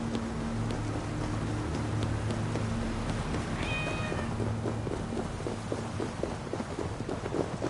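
Cats meow in the Assassin's Creed Valhalla video game, a short high meow cutting through midway over a steady ambient game backdrop with faint ticking, no speech.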